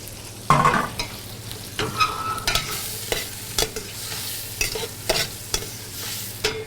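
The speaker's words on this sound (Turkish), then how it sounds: "2 veya 3 yemek kaşığı tereyağı atıyoruz. Daha sonra soğanlarımızı ilave ediyoruz." Onions sizzle and fry in two or three tablespoons of butter in a pan for anchovy pilaf, with a steady sizzle broken by repeated sharp scrapes and clacks of stirring.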